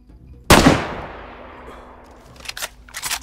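A single loud gunshot rings out at a player in DayZ, a sharp crack with a long decaying echo, followed by a few faint later bursts.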